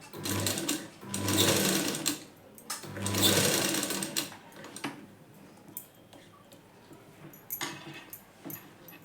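Sewing machine stitching a size 36 blouse, two strong bursts followed by lighter intermittent whirring and small clicks, close and with no talking.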